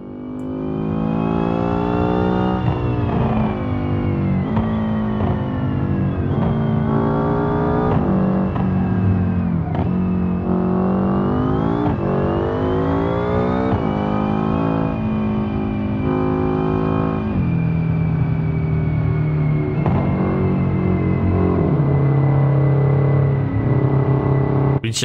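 A car engine in the Forza racing game climbs and falls in pitch as it accelerates, with steady revving broken by repeated gear shifts and downshifts under light throttle, loud and continuous with no talking.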